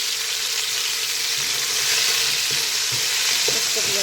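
Ginger garlic paste and green chilies fry with golden onions in very hot oil, making a loud, continuous sizzle with the scrape and clatter of stirring throughout.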